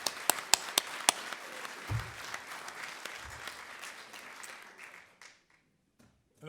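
An audience at a French political talk applauds. A few sharp early claps swell into a sustained round that fades out after about five seconds.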